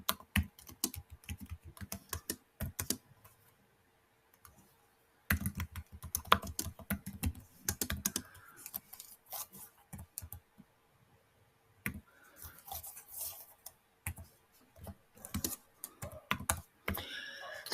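Keyboard keys are tapped to enter a roadmap title in roadmapping software, coming in close, steady bursts of clicks separated by brief pauses, with no talking.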